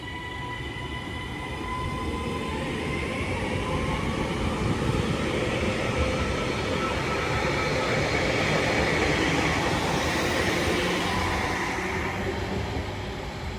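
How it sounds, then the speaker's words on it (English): A Class 331 train departs a station at Newton-le-Willows bound for Manchester Airport, a loud, steady rumble of wheels and traction that builds gradually and holds, with faint squealing tones over it. "Train now departing is a 331 going to Manchester Airport"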